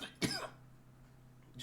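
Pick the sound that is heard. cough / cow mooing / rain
cough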